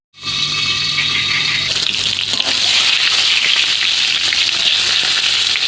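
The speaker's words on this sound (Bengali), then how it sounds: "বেগুনটাকে উল্টে পাল্টে ভেজে নেব" Brinjal frying in oil in a pan for a brinjal and prawn dish: a loud, close, steady sizzle that starts after a brief silence and grows harsher and brighter partway through.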